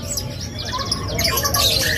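A caged locally bred songbird at a market bird kiosk sings loudly and continuously in bright, rapid chirping phrases, close and alone.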